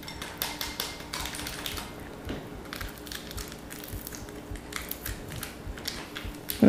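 Whisking a creme caramel mixture with instant coffee stirred in, a steady run of quick, light clicking taps of a whisk against a bowl, close and continuous, with no talking.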